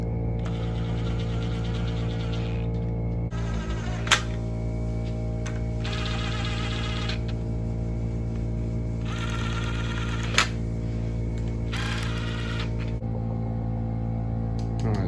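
Power tool running wheel lug nuts down on a vehicle before torquing, whirring in several bursts of a few seconds over a loud steady mechanical hum, close, with a couple of sharp clicks.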